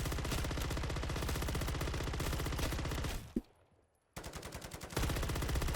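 A sentry gun in MW3 Zombies rattles off rapid, loud, continuous bursts at zombies, a brief pause cutting the fire before it resumes with the same fast rhythm.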